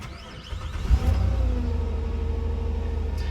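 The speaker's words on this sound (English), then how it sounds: "Starts right up." A cheap used Nissan Altima with an O2 sensor fault cranks and catches, then settles into a steady, close idle that runs alone to the end.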